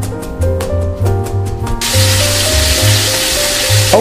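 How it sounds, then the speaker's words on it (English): Onions, garlic and oxtail sauteing in olive oil for a spaghetti red sauce, a steady broad sizzle with bursts of clatter early on, continuous and fairly loud with no voices. "This is where the sauteing happens."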